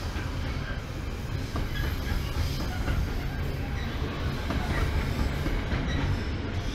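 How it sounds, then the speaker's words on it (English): A freight train rumbles steadily past at close range at Manchester Piccadilly station, with continuous low roar and faint wheel clatter throughout. "I've got freight train."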